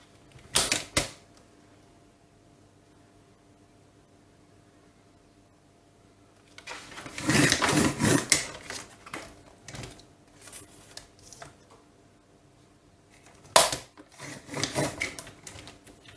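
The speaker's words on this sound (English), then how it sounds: "I'm going to trim the edges of my laminate." A paper trimmer slices the edges of laminated paper in three separate bursts of crisp cutting and sliding, short sharp strokes with quiet pauses between them, heard up close.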